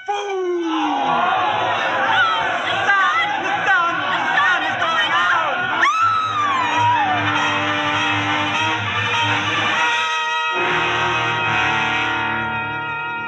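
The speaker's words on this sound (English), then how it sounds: "The crowd went mad with fear." A frightened crowd clamors in an old radio drama, with many voices shouting and wailing over one another, heavily processed with echo. The din swells, briefly drops away, then rises again.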